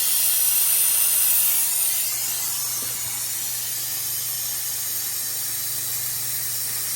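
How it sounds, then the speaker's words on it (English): A vacuum tool draws air out of the coolant system of an Audi SQ5, giving a loud, continuous hiss with a high whine. It eases slightly after the first two seconds and then holds steady, with a faint click partway through. "This is sucking all the air out of the coolant system"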